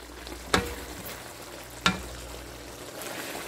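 A tomato, cherry tomato and lemon sauce with fried Indian mackerel (hasa hasa) bubbles and sizzles softly and steadily in the pan, broken by two sharp utensil knocks against the cookware.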